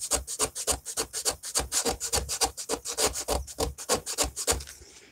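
Hand sanding a wooden cabinet door with sandpaper produces rapid, rhythmic back-and-forth rasping strokes, close and steady, about five strokes per second with no talking.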